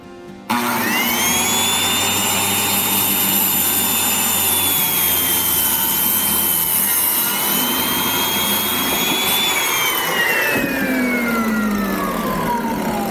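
A loud, steady high-pitched whine of a circular saw running continuously, its pitch sagging slightly as it bites into a 2x4, then dropping off near the end.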